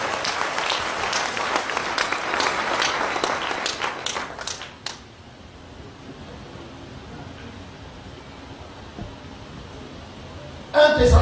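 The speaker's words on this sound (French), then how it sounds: "Si vous êtes d'accord avec moi, on acclame." Church congregation applauding and cheering together, a loud, dense burst of clapping that lasts about five seconds, then drops away into quiet room tone.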